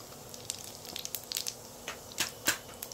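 Cumin seeds sizzling in hot refined oil, a faint bed of frying hiss broken by scattered sharp crackles and pops that grow sparser toward the end, close by and without talk.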